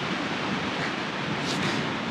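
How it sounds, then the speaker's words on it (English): Steady wind buffeting a microphone outdoors on a hiking trip, a continuous broadband roar with no pauses, loud and close throughout. "This wind is terrible."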